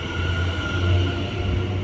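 West Midlands Railway class 730 train departing from a station, a steady rumbling hum of motors and wheels with a faint tonal whine, continuous and fairly close.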